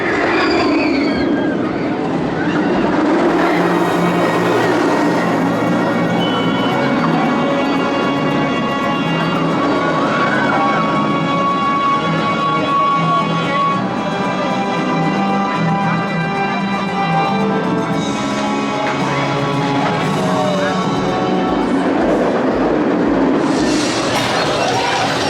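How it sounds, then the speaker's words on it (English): Ride aboard Nemesis Inferno, a B&M inverted roller coaster at Thorpe Park, with a steady loud roar of the train on track, rattling and rumbling throughout and rising again near the end. "Just taking a ride on Nemesis Inferno,"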